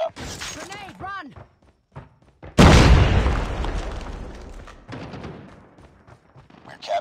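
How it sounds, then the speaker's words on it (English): A grenade goes off in a video game firefight, one loud booming blast that rolls and fades over several seconds, coming after brief voices and sharp game sounds. "Grenade, run!"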